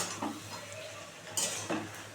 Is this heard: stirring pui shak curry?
yes